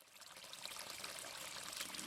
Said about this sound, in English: The tranquil, soothing, natural sound of flowing water.